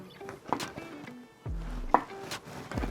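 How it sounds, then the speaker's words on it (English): Knife slicing fresh okra on a cutting board for a kimchi stir-fry: a few sharp, close chops spaced irregularly, with quiet pauses between strokes. "All we're gonna do is cut off the fibrous stem piece, then cut at an angle."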